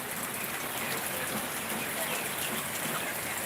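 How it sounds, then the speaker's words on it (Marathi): Heavy unseasonal rain pours over a town market, a dense, even hiss of downpour that keeps on without a break and sounds close and all around, with faint voices mixed into the roar. "अगदी जोराचा अवकाळी पाऊस नाथपुरे शहरात सध्या पडत आहे"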